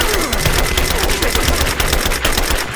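Rapid, dense gunfire in a Rise of the Tomb Raider firefight, with continuous automatic bursts of shots, loud and close, filling the whole moment with little pause.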